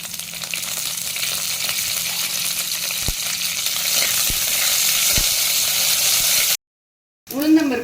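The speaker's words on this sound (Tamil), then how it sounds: "இதில் வந்து எண்ணெயை ஊற்றிட்டு கடுகு உளுந்தம்பருப்பு அது பொரிஞ்ச உடனே இந்த கருவேப்பிலையை போடுறேன்" In a clay pot, mustard seeds, urad dal and curry leaves fry in oil with a loud, continuous hiss and crackle. A few sharp clinks of stirring break through before it cuts to silence and then a short burst of other sound.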